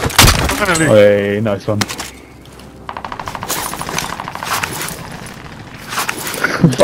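Call of Duty Warzone gunfire comes as a rapid rattling burst after a short whistling game sound, then fades into scattered, quieter shots near the end, while a player talks briefly over it.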